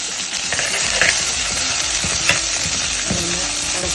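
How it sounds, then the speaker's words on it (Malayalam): Onion, ginger and green chili sautéing in a pan, a loud dense sizzle of hot oil running throughout with occasional spatula strokes and scrapes, close and without voices. "സവോള, ഇഞ്ചി, പച്ചമുളക് ഇത്രയും കൂടെ ഒന്ന് ചൂടായി വരട്ടെ."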